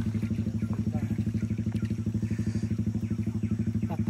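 A Suzuki Satria motorcycle engine runs on a steep dirt road, a loud, close, rapid and evenly pulsing exhaust throb that holds steady throughout with no pauses.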